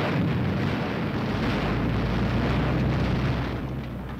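A tank's main gun fires, a heavy, rumbling, sustained boom that fills the whole stretch at high loudness and eases off only slightly toward the end, with no voices.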